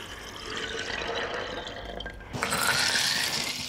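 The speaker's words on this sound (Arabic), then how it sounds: "المية اللي هضيفها على الفول مش مية وخلاص، أنا بنزل المية كده اهو." Water is poured from above into a cooking pot of fava beans, first a softer trickle, then a louder, splashing gush as the stream strengthens partway through.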